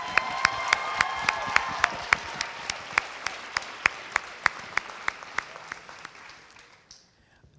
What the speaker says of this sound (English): Let's really give a loud applause to Kathy.